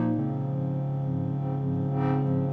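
A sustained synth chord in Orb Producer Suite drenched in reverb, with thick harmonics ringing steadily and a brighter swell of wash near the end; no voices.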